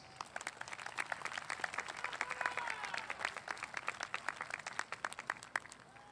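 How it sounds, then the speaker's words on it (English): An audience at a 2021 high school graduation ceremony in San Leandro breaks into sustained applause: a dense, fairly faint patter of many hands clapping at a distance, with no speech. "So let's give a round of applause to our families."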